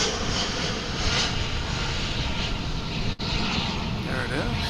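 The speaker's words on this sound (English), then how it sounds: "you hear behind me the 777 flight from Maui" A Boeing 777 from Maui at Dallas/Fort Worth International Airport, its engines a dense, steady roar in the background while a person talks in the foreground.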